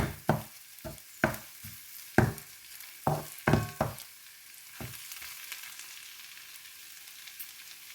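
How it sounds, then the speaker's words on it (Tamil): Egg frying in a pan with capsicum noodles, heard as a run of sharp stirring clatters and spatula knocks over a soft, steady sizzle that fades into a quieter simmering hiss. "கொஞ்சம் பதங்கி வரட்டும் இந்த முட்டை"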